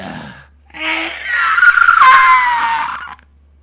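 A loud, high-pitched scream imitated by a voice as a monster's shriek, a sustained wavering wail of about two and a half seconds that rises and holds before trailing off.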